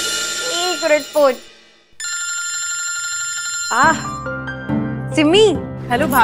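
A telephone rings with a bright electronic warble of repeated tones in a home setting, heard between and under bursts of nearby speech and singing.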